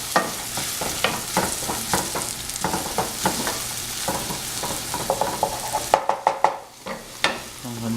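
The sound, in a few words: sautéing spiced kothu parotta in a pan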